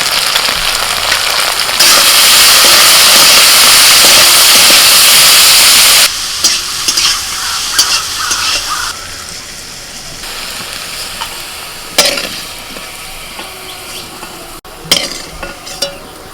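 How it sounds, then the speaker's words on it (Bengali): Bitter gourd frying with salt and turmeric in hot oil, a loud steady sizzle that swells for several seconds, then eases into a quieter crackle broken by occasional stirring clinks. "করলাটায় নুন হলুদ দিলে একটু ভালো ভাজা হয়"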